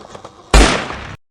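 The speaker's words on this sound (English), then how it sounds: "Oh my god, I just heard a gunshot." A single gunshot outdoors on a mountain: one abrupt, loud blast that decays over about half a second, then cuts to silence, with faint faraway sounds just before it.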